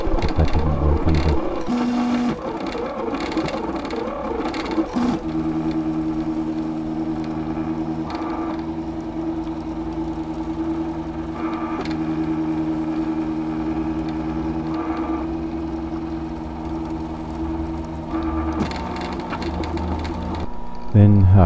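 A Printrbot 3D printer runs with steady, tonal stepper-motor whines that hold for long stretches and shift pitch between moves, fairly close and continuous, with a brief voice near the start.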